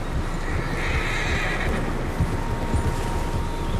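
Several horses in the video game Red Dead Redemption 2 neighing and whinnying over a steady outdoor ambience with soft clip-clop hoof sounds, fairly close and loud, no talk.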